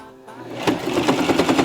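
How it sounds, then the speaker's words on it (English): A sewing machine whirs up from quiet into a fast, steady stitching rhythm, close by, sewing trim onto a karate uniform. "Let the sewing machine do all the work."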